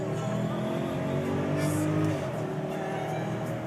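A 2012 Mercedes-Benz GL450 SUV accelerating on a test drive, its engine note a steady, fairly loud interior drone that rises slightly and holds throughout, with road and tire noise underneath.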